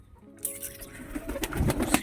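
Pigeons fed biscuits, cooing several times in low, soft bursts close by, with faint rustling and clicks alongside.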